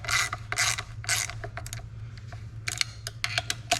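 A ratchet snugs down bolts on a 1958 Buick Special with Dynaflow transmission, giving quick bursts of close, crisp clicking with short pauses between strokes over a low steady hum, and no talking.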